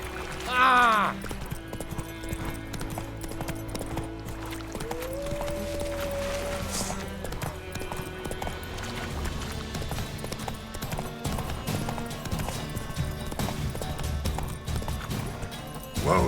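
Hooves of the horse Roach clip-clop at a steady gallop in The Witcher 3, close and continuous through the whole stretch, with a brief whinny near the start and a voice speaking over the rhythm.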